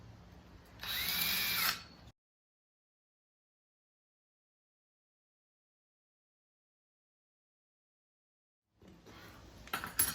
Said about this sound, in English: I'm gonna use my big drill bit just to give me kind of a template.